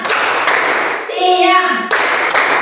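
A class of schoolchildren clapping hands together in a call-and-response rhythm game in a classroom, loud close claps in short bursts, with a brief pause and children's voices mixed in.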